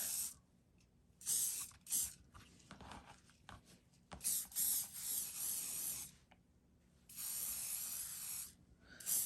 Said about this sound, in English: spray them with some firm holding hairspray to keep that mustache in shape